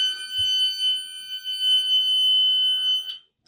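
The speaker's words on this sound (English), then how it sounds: "Coolant alarm." A loud, steady high-pitched electronic coolant alarm tone from a yacht's engine sounds continuously for about three seconds, then cuts off abruptly.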